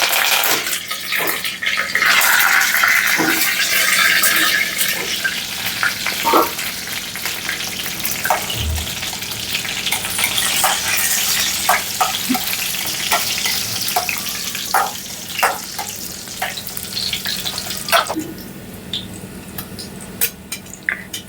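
Cumin and mustard seeds frying in hot oil for a tempering for a dry moringa (drumstick) dish. Steady, close sizzling with scattered sharp crackles and pops runs throughout, with no talking.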